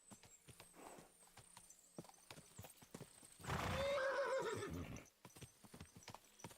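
Horse hooves clip-clop in irregular, faint steps in the medieval game Kingdom Come: Deliverance II, with a loud horse whinny breaking in midway before the hoofbeats resume.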